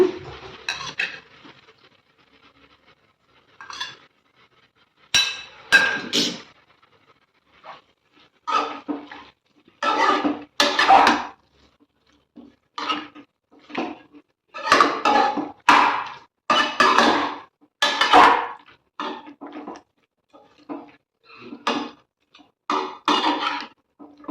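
Chicken is stirred in a pan after turmeric is added. A spoon scrapes and clatters against the metal in many close, irregular strokes that speed up into a steady run, with no talk.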